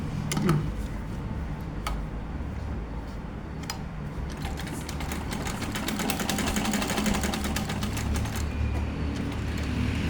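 A sewing machine stitches churidar fabric with a steady, continuous mechanical whir and fine rapid ticking throughout, close by, with no talking.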